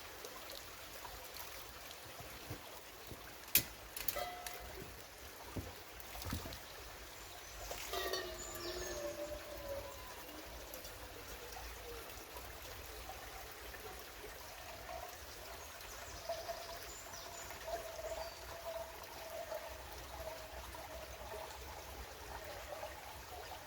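Water trickles steadily through a hanging Millbank-style cloth filter, a faint continuous flow with a few soft drips and knocks, quiet and close with no talking.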